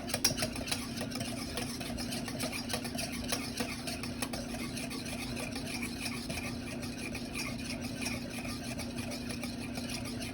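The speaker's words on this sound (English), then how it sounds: "we're gonna whisk" Raspberry cremeux mixture whisked in a bowl, a quiet, continuous rapid scratching and ticking of the whisk at an even rhythm over a steady low hum, close by and with no talking.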